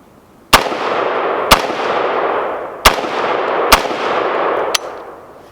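Five sharp, loud shots from an IWI X95 Tavor rifle fired at steel targets on a range, spaced about a second apart, each followed by a long ringing decay.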